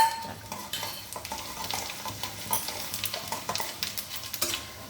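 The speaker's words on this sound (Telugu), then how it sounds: "పప్పు చక్కగా ఏగుతుందండి మినపప్పు శనగపప్పు ఇది నల్ల జీలకర్ర మామూలు మన జీలకర్ర కూడా వేసేస్తున్నాము" Urad dal, chana dal, black cumin and regular cumin fry in ghee for a tempering, giving a soft close crackle and sizzle with frequent stirring scrapes and light clicks, and no talking.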